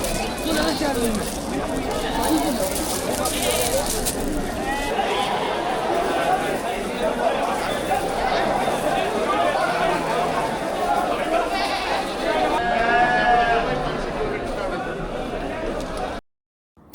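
Goats bleat intermittently at the Nizwa goat market in Oman, heard amid loud crowd chatter and a person talking over the bustling outdoor scene.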